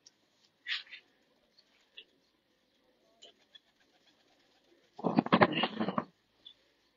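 Red-eyed pigeons kept by a fancier coo in soft bursts, with a brief early call and a louder, denser cooing cluster near the end, separated by quiet stretches.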